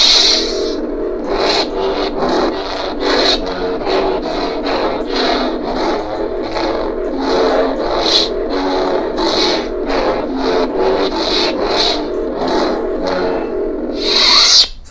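Repeated lightsaber swings from a Vader's Vault soundfont on a Revn saber, whooshing with a humming, buzzing tone that rises and falls in quick regular pulses over a constant electric drone; horizontal swings slightly higher pitched than vertical.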